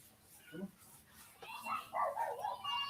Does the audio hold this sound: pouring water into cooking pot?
no